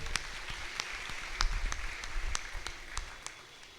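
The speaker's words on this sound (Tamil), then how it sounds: "அந்த வாலிப பிள்ளைகள் கைத்தட்டி உற்சாகப்படுத்துங்க" A congregation at a Tamil Catholic novena Mass for St. Anthony claps to encourage young helpers; fairly faint, sparse claps land one by one in a loose rhythm.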